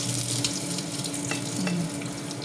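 Dried milkfish (daing bangus) fries in a pan over lowered heat, giving a steady, close crackling sizzle throughout with a few sharper pops and a brief scrape of stirring.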